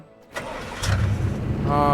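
A vehicle engine in the dinosaur-park game Jurassic World Evolution 2 cranks briefly, then catches and settles into a loud, steady idling rumble, heard up close.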